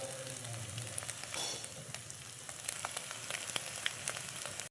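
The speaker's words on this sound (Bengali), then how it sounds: "তো একটু ভালো করে ভেজে নিতে হবে।" Egg frying in a pan for egg bhujia, a steady close sizzle and crackle that stays even throughout with faint scraping, no voices.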